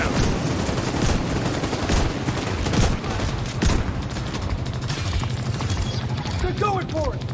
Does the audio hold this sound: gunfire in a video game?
yes